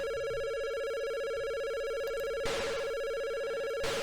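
A telephone rings with a steady electronic tone that holds for several seconds, accompanied by a couple of sharp noise bursts, and no one speaks.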